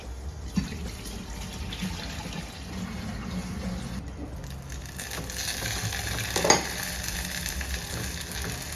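Onions turning light brown fry in a pan with a steady, crackling sizzle close by, broken by a single sharp clink partway through. No one speaks.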